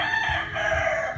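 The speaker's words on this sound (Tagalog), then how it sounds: "ang ingay naman itong manok na to" A rooster crows once close by, a loud, drawn-out call that fills the whole short moment, heard on its own with no talking.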